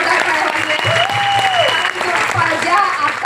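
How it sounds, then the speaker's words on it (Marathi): Audience applause at a Vestige women's empowerment program: loud, steady clapping from a large crowd that runs the whole time, with a voice rising over it partway through. "मिनाल मॅडमसाठी जोरदार टाळ्या वाजूया."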